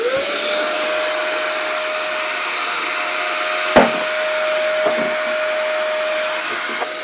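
A £30 Day Plus handheld vacuum cleaner runs in blower mode, a loud steady whoosh with a constant whine that holds without a break, plus a few brief knocks as it is moved.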